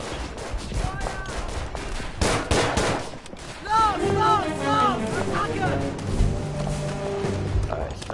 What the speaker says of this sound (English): Oh shit, they're bombing us.